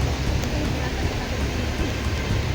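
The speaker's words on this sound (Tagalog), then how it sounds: "At tapos umuulan pa mga kaidol." Steady, dense rain hisses and patters continuously, a constant wash of noise with no pauses.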